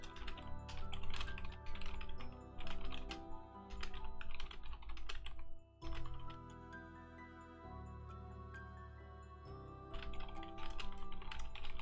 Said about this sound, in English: I'm typing taunting messages right now.